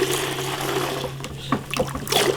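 Water is pulled from a cask through beer lines while they are being cleaned, making a close trickling, gurgling flow that breaks into a few sputtering bursts toward the end.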